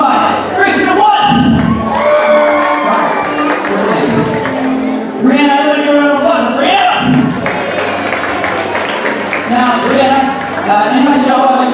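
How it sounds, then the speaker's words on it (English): A concert audience at a spring school show claps, cheers and screams on cue, a loud, sustained wall of crowd noise with whoops and shouts rising and falling throughout. "Clap, cheer, and scream."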